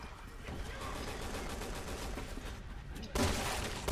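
Rapid gunfire from the video game Resident Evil 6, a steady dense volley of shots through the whole stretch that turns louder and harsher near the end.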